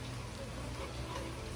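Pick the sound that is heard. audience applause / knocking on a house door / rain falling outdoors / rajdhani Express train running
rain falling outdoors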